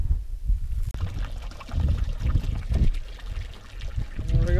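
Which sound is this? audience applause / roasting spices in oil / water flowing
water flowing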